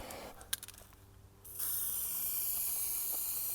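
Spray gun laying another coat of paint onto the door of an MK2 Golf GTI, a loud steady hiss that starts after a few faint clicks and carries on unbroken to the end.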